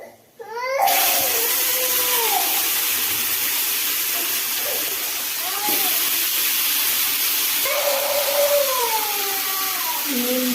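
Tomatoes dropped into a hot pan while cooking a small-potato dish in a home kitchen, giving a steady loud sizzle and hiss that starts abruptly and runs throughout, with brief murmurs of voices beneath.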